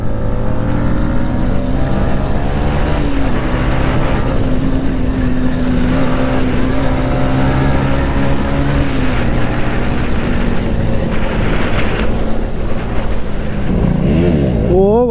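A KTM Duke 250 motorcycle ridden at full power gives a loud, close, continuous engine roar with shifting pitch as it revs. A voice talks over it.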